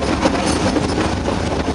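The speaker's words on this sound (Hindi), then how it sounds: "देखिए टनल से हमारी ट्रेन पास हो रही है।" Close and loud, the Ooty mountain train rumbles through a tunnel, its wheels clattering in a rough, continuous roar. A faint squeal sits over the clatter, and there are no voices.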